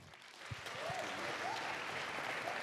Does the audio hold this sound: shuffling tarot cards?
no